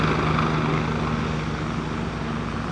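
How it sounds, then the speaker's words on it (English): A helicopter passes over New York City, its loud rotor and engine drone holding steady and close with a low humming tone and no pauses or speech. "Where the hell did that helicopter go?"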